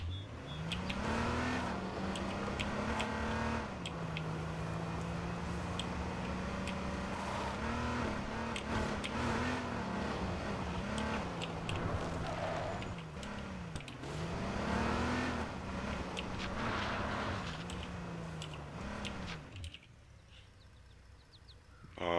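A car engine drones in H1Z1 as the vehicle drives, a steady mid-pitched hum that rises and dips with repeated gear shifts and revs for about twenty seconds before cutting out near the end.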